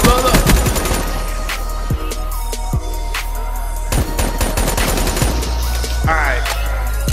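Loud, close gunfire in Black Ops 3, bursts of rapid automatic shots from a Razorback weapon, dense and repeated across the whole stretch over a game music bed, with no talk.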